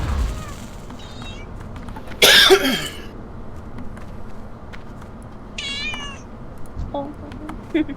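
A cat meows several times, loud and close, with a throaty cough-like burst and a few higher drawn-out cries in between.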